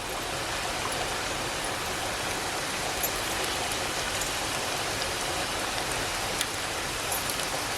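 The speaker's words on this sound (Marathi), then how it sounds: "बाहेर असा पाऊस पडतोय ना" Heavy monsoon rain pours down steadily outdoors in Sangameshwar, a dense, unbroken hiss of drops on surfaces with no voices.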